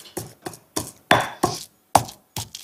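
Dried chilies and spices are pounded with a mortar and pestle, eight sharp, evenly spaced thuds in quick succession, each knock ringing briefly and fading.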